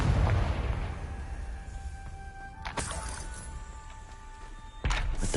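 Spell explosions cast in the Hogwarts Legacy video game: a loud opening blast decaying away, a sharp crack near the middle, and another burst at the end, with no talking.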